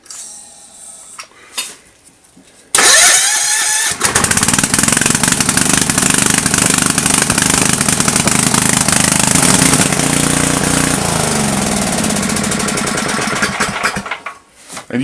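A generator converted to run on propane, fitted with a connected battery, cranks and catches, then runs loudly and steadily close by for about ten seconds before shutting off; brief rattles and clicks before it starts.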